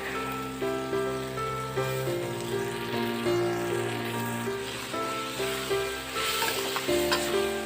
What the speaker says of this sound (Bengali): এবার খাসির চর্বি দেওয়া হবে দিয়ে ভালো করে কষিয়ে নেওয়া হবে